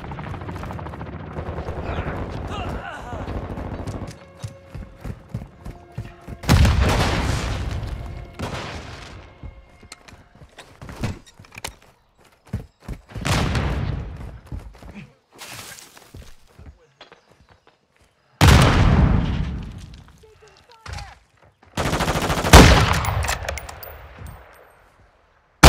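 Bursts of gunfire in Call of Duty: Modern Warfare II deathmatch, several loud volleys with booms and rapid automatic fire separated by quieter gaps with footsteps and clatter.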